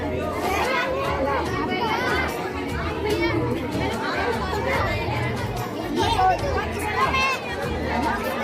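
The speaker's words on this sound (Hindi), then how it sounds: "बहुत भीड़ है यहाँ पे" Busy crowd chatter at a crowded spot during a birthday outing, a dense mix of overlapping adult and children's voices that carries on throughout.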